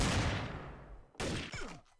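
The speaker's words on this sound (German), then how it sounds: "du hast auf mich geschossen" Gunfire aimed at the player in the game TTT: a dense burst of shots at first, then a few sharp separate cracks after a short pause, fairly close and loud, with no voices.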